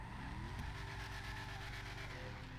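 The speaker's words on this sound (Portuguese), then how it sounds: "E agora, o bercinho, quando eu acelero." The Declasse Mamba, a tuned car in GTA V Online, gets its engine revved under acceleration, a steady loud droning roar with rising harmonic tones, continuous throughout with no talking.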